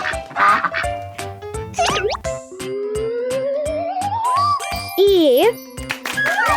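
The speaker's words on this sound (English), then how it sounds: "Duck." A loud duck quacks a few times over tinkling, jingly music, alongside a voice.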